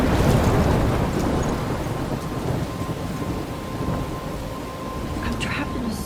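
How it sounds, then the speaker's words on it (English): A video-game thunderstorm in Life is Strange: steady heavy rain and rumbling thunder fill the whole stretch at high volume, with a broad roar that never lets up. "I'm trapped in a storm?"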